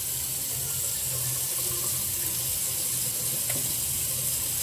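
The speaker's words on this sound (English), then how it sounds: "let's get our cold water going" Cold water runs steadily from a kitchen tap in a continuous, even hiss and rush, close by, with no voices over it.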